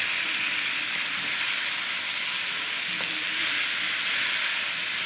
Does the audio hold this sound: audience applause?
no